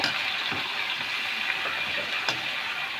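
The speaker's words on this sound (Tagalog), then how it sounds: "So, igisa natin yung ating pinaka-backbone." Chicken backbone sautéing in a pan, a steady, fairly loud sizzle with faint scraping stirs and no talking.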